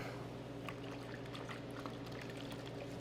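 A sanding block being dunked in a bucket of soapy water during wet block sanding on a 1967 Firebird: steady close sloshing and trickling water, soft and continuous.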